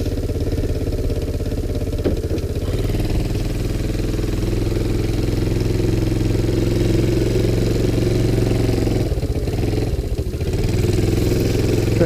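A cold Sunl 110cc ATV, recently revived after being abandoned and seized, idles loudly and steadily throughout, with brief dips in its note partway through and near the end.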